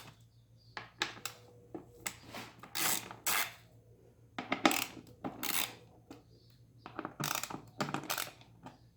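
Allen socket on a ratchet loosening bolts on a 2019 Kawasaki Vulcan LT 900, irregular clusters of close metallic clicks and light clinks with short pauses between turns.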